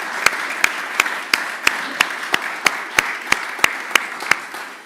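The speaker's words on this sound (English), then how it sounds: "So can we give them a big round of applause," Lecture-hall audience at the ISCVEx 2025 Walker Lecture gives a big round of applause, a loud, close crowd clapping with crisp, regularly spaced sharp claps standing out from the continuous patter.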